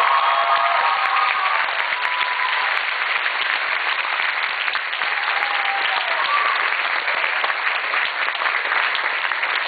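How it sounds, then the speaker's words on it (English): A large convention-panel audience applauds in a steady, dense wash of clapping that holds loud and continuous for the full stretch, with no voices on top. "But if I get a huge round of applause."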